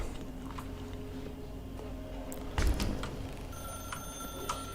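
In the video game The Stanley Parable, a telephone rings with bright, repeated electronic bell tones over a quiet ambient background, with a louder thump midway.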